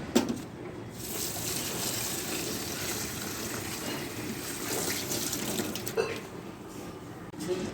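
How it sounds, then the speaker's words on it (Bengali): Mint leaves washed under a running tap, a steady gushing splash of water with a few louder splashes as the leaves are handled. "এই পুদিনাটা আমি ধুয়ে নিচ্ছি"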